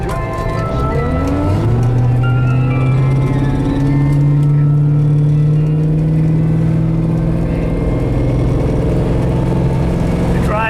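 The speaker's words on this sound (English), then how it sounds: "Car drives out really nicely." A 1972 Mercedes 280 SEL converted to V8 with a 4-speed, on a road test drive: the engine pulls up through the revs in a rising, close, loud tone, then holds a steady cruising drone.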